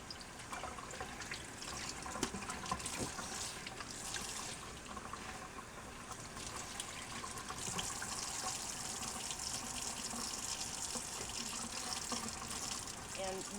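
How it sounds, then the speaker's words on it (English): Raw beef stew meat is rinsed under a cold kitchen tap, the water pouring in a steady, close splashing rush that varies slightly as the meat is moved. "Run it under some cold water."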